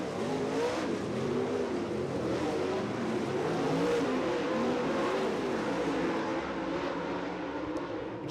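Dirt track race cars thundering around the oval on the lap toward the white flag, a loud sustained roar of several engines with overlapping rising and falling pitches, a dense continuous wall of engine noise.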